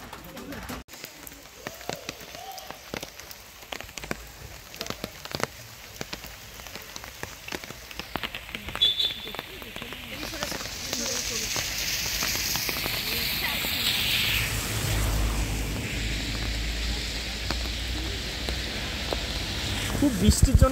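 Heavy rain pours down in Mirik, Darjeeling, a dense, steady wash that grows louder toward the end, with scattered knocks and clatter and voices talking beneath it.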